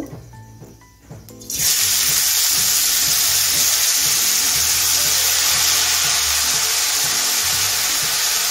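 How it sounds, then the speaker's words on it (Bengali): Spinach hits hot white oil in a wok with a sudden loud, close sizzle that bursts in after a quiet moment and holds steady and dense, a continuous frying hiss. "দেখুন কড়াইতে আমি 1 টেবিল চামচ সাদা তেল দিয়ে গরম করে নিয়েছি। এখন আমি শাকটা দিয়ে দিব।"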